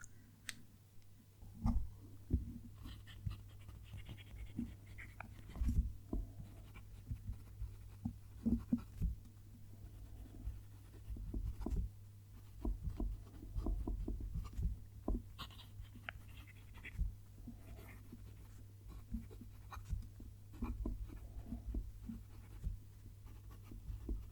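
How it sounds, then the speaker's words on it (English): A Pilot E95S fountain pen nib writing on paper, producing faint close scratchy strokes and light taps in irregular bursts against a quiet low hum, with no one speaking. "We've got that nice sound as I'm writing."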